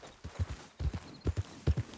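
In Red Dead Redemption 2, a horse's hooves strike in short paired clusters, heavy low thuds near at hand, bunched and restless as the animal fusses, with no clear whinny standing out.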